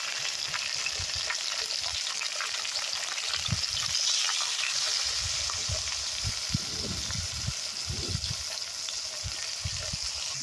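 Onions and tomatoes with turmeric sizzle steadily in a pan over an outdoor fire in a forest, a loud continuous frying hiss broken by occasional stirring scrapes, with no talking.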